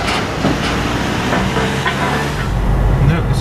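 Lötschberg car-carrying shuttle train pulling away in Switzerland, a steady low rumble and rolling rail noise with faint clatter, heard close and continuous with no talk over it.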